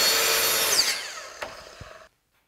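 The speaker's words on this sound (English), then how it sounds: "Bring down the track and you can make that longer crosscut just as easily." A track saw on a Kreg Adaptive Cutting System crosscuts a board with a loud whine that winds down and stops abruptly after about two seconds, followed by silence.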